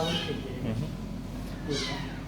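Young kittens in an animal shelter mewing in high, thin calls, one near the start and another near the end, heard beneath someone speaking and steady room noise.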